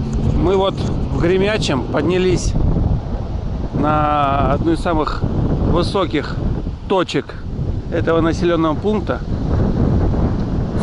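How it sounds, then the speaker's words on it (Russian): Wind buffets the microphone continuously with a low rumble, outdoors at a high point in a settlement after rain, while someone talks over it throughout. "Ребята, простите за ветер."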